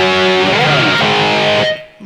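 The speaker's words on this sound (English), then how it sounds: "Now if I turn the reverb off, this is what it sounds like." Distorted electric guitar through a BOSS eBand JS amp with the reverb switched off, a short loud dry chord and bend that cuts off abruptly, heard alone.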